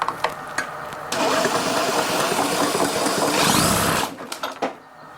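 A Stihl BR600 backpack blower with a bad cylinder runs with its kill wires disconnected, its small two-stroke engine buzzing loudly and raggedly before surging briefly and sputtering down near the end.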